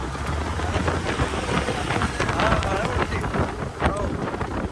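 Steady rain and rushing wind buffet the microphone while riding in an open jeep near Ponnani, a dense continuous roar with engine rumble underneath and a few faint voices.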